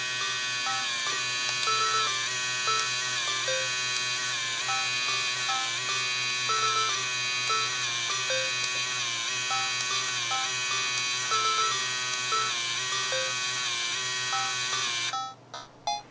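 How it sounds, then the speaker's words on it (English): A Game Boy Printer runs off a Game Boy Camera photo, a steady, loud electric whir with a repeating stepped buzzing pattern as the thermal printer advances line by line, stopping abruptly near the end. "Let's try printing something from the camera."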